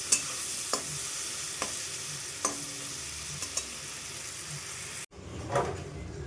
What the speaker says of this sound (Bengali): চিংড়ি মাছগুলো একটু ভাজা ভাজা করে নেব।